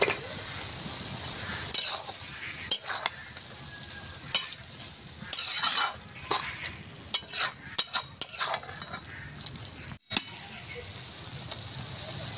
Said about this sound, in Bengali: চিনিটা দিয়ে এভাবে একটু নেড়ে নেব।